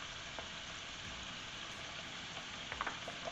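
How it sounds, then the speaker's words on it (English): Rings frying in a pan, a faint, steady sizzle with a few soft clicks and knocks, quiet and continuous with no talking. "while it's frying, we can add all together"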